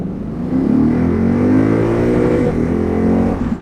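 A Lexus GS sedan accelerating hard from inside the cabin, the engine note jumping up after a quiet start and then climbing steadily in a loud, sustained rising drone through the gears.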